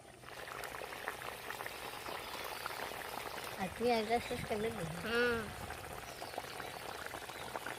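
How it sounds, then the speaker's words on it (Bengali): Fish curry gravy bubbles at a rolling boil to reduce, a steady low burble with gurgling pops, while a voice talks faintly partway through. "ঝোলটা একটু ফুটিয়ে কমিয়ে নেব, তাহলেই হয়ে যাবে"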